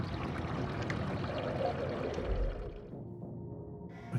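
Water pouring in the Homeseek survival game, a steady rushing splash that runs for a few seconds and then cuts off, leaving a quieter low hum.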